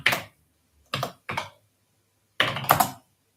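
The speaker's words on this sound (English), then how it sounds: "Mute it if you don't want to hear the clickety clack of the keys" Computer keyboard keys clatter in short bursts of fast clicks separated by silent pauses, close and crisp.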